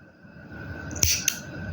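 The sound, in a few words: scissors cutting knitting yarn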